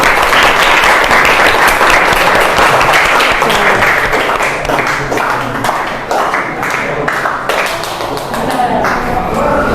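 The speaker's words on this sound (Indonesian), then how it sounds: "Sebelum maju kasih tepuk tangan dulu dong" A classroom of students claps for a group about to give a presentation, dense steady applause filling the room for several seconds, with voices mixed in.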